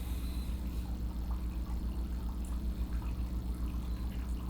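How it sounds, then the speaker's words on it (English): Steady running water flows continuously and evenly at moderate level, with a low broadband rush and no voices. "Just the water."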